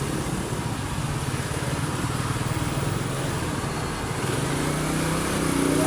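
A motorcycle approaches through busy city traffic in the Manila area, its steady engine drone loud and close and rising slightly toward the end, with no talking.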